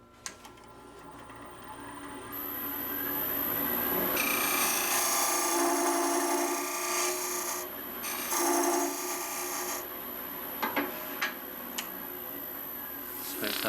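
A wooden box lid turned on a lathe to reduce the diameter of a taper, with a spinning hum and a high whine as the tool cuts, rasping and scraping bursts that come and go, and a few taps near the end.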